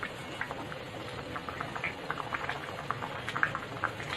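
Fish curry made with vela meen and coconut paste boiling in a pot, a soft steady bubbling and patter with small irregular pops, heard close but faint.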